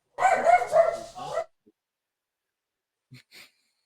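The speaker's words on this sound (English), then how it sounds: "I like how my dog is freaking out again." A pet dog barks in a quick burst of several loud yips up close, followed by a short pause and two fainter whimpering yelps.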